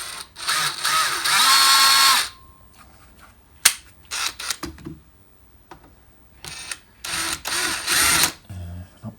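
Drill press boring out holes to 5mm, loud whirring bursts of drilling around 0–2 s and 7–8.5 s, separated by clanks, clicks and quieter handling noises; a brief voice may be heard.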